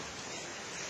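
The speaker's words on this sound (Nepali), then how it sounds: "पानी यो त खोलै आएछ त" Flood water from heavy rain gushes into a quarantine room in Nepal, a steady, rushing broadband wash of flowing water, close and continuous, with no voices.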